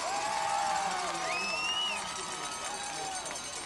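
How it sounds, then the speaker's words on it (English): Crowd noise at a 1993 high school football game between McGuffey and Mt Pleasant: a steady, distant wash of spectators with faint whistle-like tones and a public-address voice over it. "Okay, you got the crowd noise okay?"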